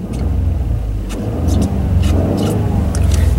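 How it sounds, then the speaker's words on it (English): A 2011 Ford F-150 Platinum 4x4 pickup with the EcoBoost twin-turbo V6 accelerating, a loud, throaty, steady engine drone heard from inside the cab, rising slightly in intensity. "You can hear, sounds pretty good for a V6, sounds pretty throaty."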